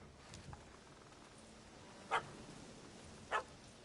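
A dog in The Witcher 3: Hearts of Stone game gives two short, sharp barks about a second apart, faint and somewhat distant over a quiet background.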